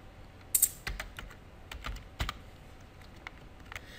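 Computer keyboard typing while writing C/C++ code, a quiet run of irregular key clicks with a few sharper, louder taps near the start and middle, no talking.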